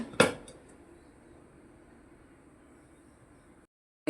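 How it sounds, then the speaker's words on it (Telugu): A cooking pot set down on a kitchen stove to start a ridge gourd and chana dal curry gives one sharp metallic clank near the start, followed by a faint steady room hiss. "గిన్నె పెట్టేసుకుందాం"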